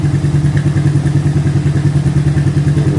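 A motorcycle engine runs loud and close during carburetor tuning, a steady, rapid, thumping idle with an even pulsing rhythm and no speech.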